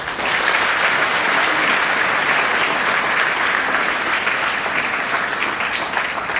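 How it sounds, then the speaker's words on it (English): An audience in a school hall gives a big round of applause for a speaker, dense, even clapping that holds steady from start to finish without any speech over it. "Let's give her a big round of applause."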